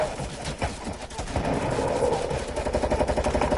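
Rapid gunfire in a Fortnite match rattles on continuously: dense, loud automatic bursts fire back to back with no pauses and no voices over them.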